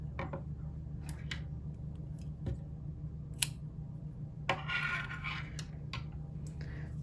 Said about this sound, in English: What you'll do is you'll chain 1 and then cut the yarn.